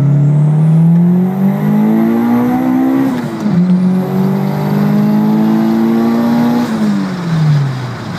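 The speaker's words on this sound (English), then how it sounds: "I'll do a second gear pull, I suppose." A turbocharged street car pulls hard through second gear on a flat road, its engine note climbing steadily, then a quick shift and another long rising pull that tapers off, loud and close with no talking.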